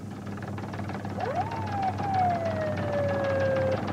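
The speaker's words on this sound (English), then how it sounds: "Hit the siren, Doug." A police siren on a patrol car during the Los Angeles riots sounds at close range, starting with a quick rising whoop and then a long wail sliding downward over steady vehicle rumble.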